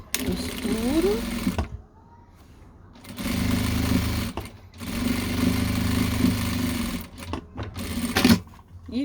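Domestic sewing machine stitching fabric pieces for a small zippered pouch, running in loud steady mechanical bursts of several seconds each, broken by short pauses and brief handling noises.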